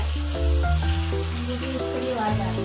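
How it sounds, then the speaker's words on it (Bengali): Bitter gourd and pumpkin fry in a pan with a steady, close sizzle that runs the whole time, with faint tonal sounds in the background. "উচ্ছে কুমড়ো ভাজা।"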